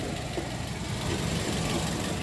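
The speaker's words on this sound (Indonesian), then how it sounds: "Ini mesin posisi nyala tapi hampir kayak nggak ada suaranya." A 2015 Toyota Yaris G automatic hatchback engine idles softly and steadily, a faint, even hum with no revving.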